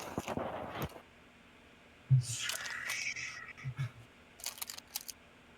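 Someone eats snacks close to the mic, with crisp crunching and crinkling of a wrapper in short irregular bursts separated by quiet gaps.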